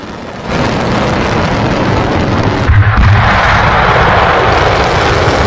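A loud animated bunker buster bomb effect: a broad, roaring rush like a diving aircraft, with a heavier thump of the blast near the middle that then keeps rumbling. There is no speech.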